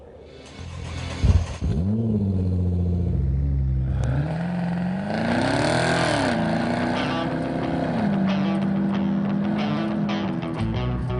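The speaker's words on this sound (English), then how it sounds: "Let's drive the 2012 Camaro ZL1 and check the tech." A 2012 Chevrolet Camaro ZL1 engine revs loudly while driving, with a deep rumble rising and falling through several throttle surges and sustained high-load droning, close and dominant throughout.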